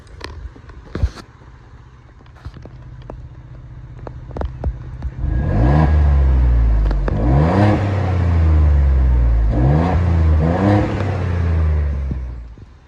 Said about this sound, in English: take a listen to a few revs from the 2023 Ford Bronco.